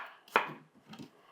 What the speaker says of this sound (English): going to make big dices on the apples